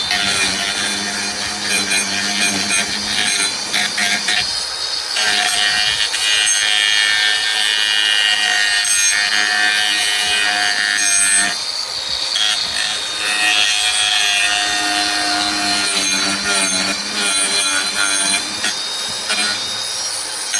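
A grinder cuts steadily for about twenty seconds, a loud, continuous, close, harsh whirring drone with small shifts in pitch and pressure, and no voices.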